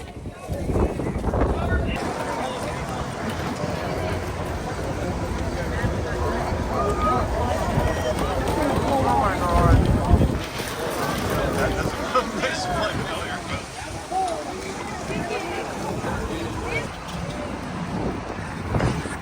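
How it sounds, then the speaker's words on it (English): Strong outdoor wind whips dust around, a loud, steady roar of gusts buffeting the microphone, with voices talking underneath throughout. "The wind is so bad and dust is so bad"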